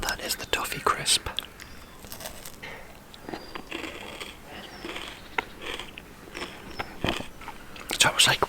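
Close, whispered crunching and chewing of a Nestle Toffee Crisp bar, crisp rice cereal and chewy caramel, with soft mouth clicks and rustles throughout and whispered talk over the top.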